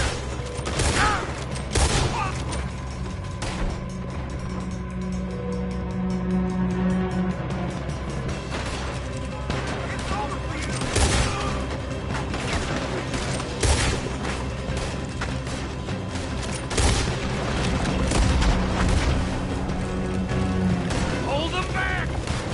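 A chaotic PS4 video game battle erupts with loud gunfire volleys, booms and explosions layered over engine noise, while voices shout commands throughout.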